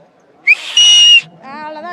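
A whistle at a political rally gives a short chirp and then a shrill blast of about half a second, followed by a brief bit of nearby voice.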